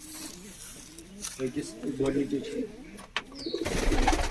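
A pigeon coos up close in low, throaty bursts, with people talking nearby.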